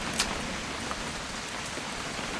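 Steady rain falls in the video game What Remains of Edith Finch, a dense, even hiss of drops that stays constant and fairly close throughout, with no voices.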